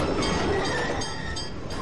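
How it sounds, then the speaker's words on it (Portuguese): A Bahia Tramway electric tram (bonde) in Salvador, Brazil rumbles along its rails with a steady loud roar and faint metallic squeal, close and continuous, no talking. "O bonde!"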